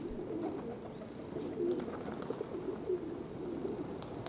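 Pigeons cooing in a soft, repeated low murmur from a flock circling overhead, steady and moderately faint against an open outdoor background.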